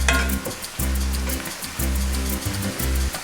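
Onions browning in about a tablespoon of olive oil give off a steady, close sizzle that runs alongside low droning tones which cut out briefly at regular intervals.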